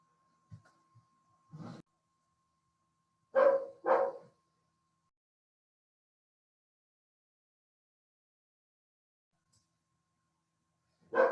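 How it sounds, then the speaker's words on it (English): A dog barks in the background of a quiet room, a few short separate woofs spread out in time with long silences between them, moderately loud against otherwise still surroundings. "my dog is barking in the background"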